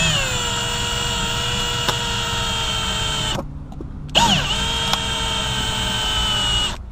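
A power cutting tool whines with a steady, strong tonal drone while removing the windshield of a 2020 Lincoln Aviator; it stops briefly, then restarts with a rising whine and runs on, close and loud, with no talk.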